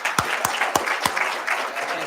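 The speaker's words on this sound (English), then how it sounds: "a nice round of applause for Andrew" A school awards audience applauds a student receiving a Student Success award. Steady crowd clapping runs throughout, with a few louder, sharper claps standing out near the front.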